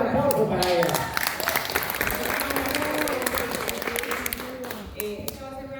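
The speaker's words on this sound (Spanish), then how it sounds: "fuerte el aplauso para ella" Audience applause welcoming a guest onto stage at a Spanish-language talk event, sustained clapping throughout with music or tones and voices layered over it.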